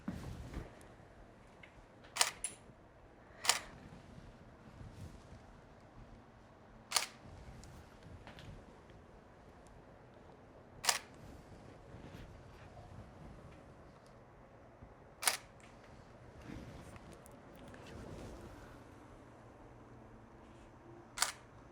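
Camera shutter clicks fire one at a time at irregular intervals of a few seconds during an indoor maternity photo session in soft natural light, each click sharp and near against quiet room tone.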